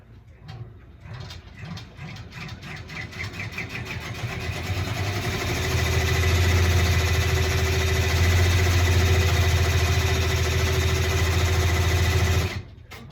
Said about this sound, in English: we're going to go ahead and start stitching it